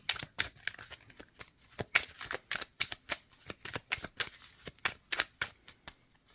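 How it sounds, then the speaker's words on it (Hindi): A deck of tarot cards is shuffled and flipped by hand, producing a rapid run of crisp riffling slaps and flicks close to the microphone, quiet overall with no talking. "हम इसको फ्लिप करेंगे पूरे डेक को।"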